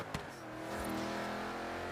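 Car engine in the Forza racing game, a car chosen for a race challenge against a train, revving and accelerating steadily and loud with a rising, sustained tone after a brief thump, no talk.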